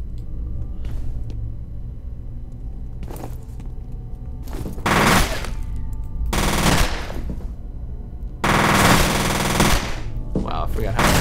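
Automatic weapon fire in the first-person shooter game F.E.A.R., with several loud bursts of rapid shots separated by short pauses over a steady low rumble, closing with a longer sustained burst.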